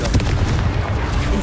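The Confringo spell explodes in Hogwarts Legacy, a loud, dense run of booming blasts and rumbling bursts packed close together with a voice mixed in.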